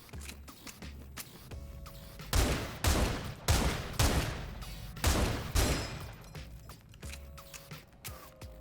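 The player's gun firing in SULFUR, a video game: a steady run of loud, evenly spaced shots, roughly one every half second, close and punchy, with softer clicks and game sounds between bursts.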